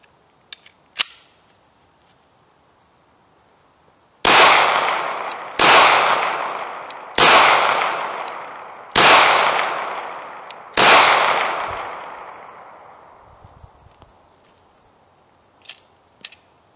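Five loud, sharp pistol shots from an H&K USP Compact 9mm handgun, fired one at a time at a steady pace roughly every one and a half seconds, each ringing out with a long decaying echo. Faint clicks and handling noises come before and after.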